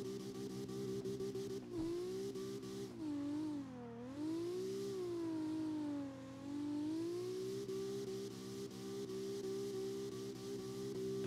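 A drifting car's engine in the racing game CarX Drift Racing Online drones loudly and continuously, its pitch dipping and swelling as the revs rise and fall, with no voices over it.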